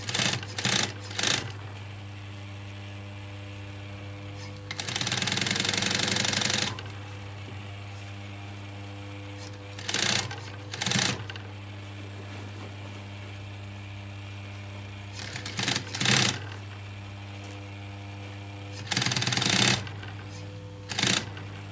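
A sewing machine stitches a leather jacket along its original seam in short bursts and one longer run, with quieter gaps where the machine stops between passes.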